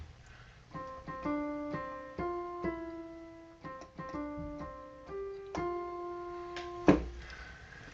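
A piano plays the Happy Birthday melody as single notes, moderately soft, each note struck cleanly and ringing into the next at a steady unhurried pace.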